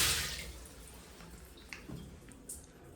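Water runs from a top shower nozzle in a hotel bathroom, a soft steady hiss and splash that starts strongest and then eases to a quieter flow with a few light drips, close by and with no voices.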